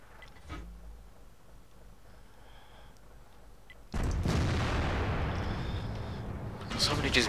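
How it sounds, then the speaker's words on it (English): Artillery shells land near the player's tank in World of Tanks: a small early thump, then a sudden loud explosion that leaves a sustained roaring rumble, with a final sharp crack at the end. "Really annoying artillery sometimes."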